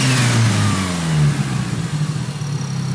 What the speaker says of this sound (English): See here, if you can hear the turbo.